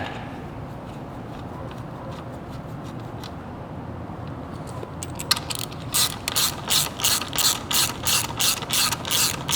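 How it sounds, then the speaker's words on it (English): A ratchet wrench torques the supplied bolt on an idler pulley of a Holley mid-mount accessory system on an IROC Z, faint clicks at first under a low hum, then loud, rhythmic ratcheting strokes close by. "And we'll torque that one to 36."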